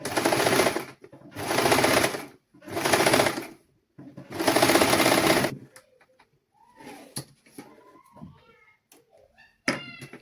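A sewing machine sews the seam of a child's sun suit in four loud, evenly spaced bursts, followed by quiet clicks and fabric handling.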